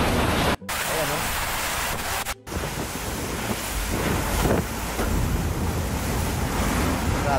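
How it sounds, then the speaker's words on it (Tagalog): Violent typhoon wind roars and buffets the microphone without letup, a dense, loud rushing with surf-like surges and two brief dropouts, a voice faintly audible underneath. "Grabe yung hangin, no?"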